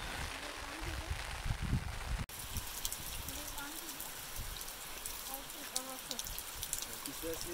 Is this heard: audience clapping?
no